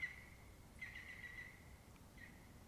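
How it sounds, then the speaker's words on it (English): A green woodpecker calls faintly from a distance outdoors, a thin sustained ringing note that breaks off and returns a few times over steady background noise. "That was a green woodpecker."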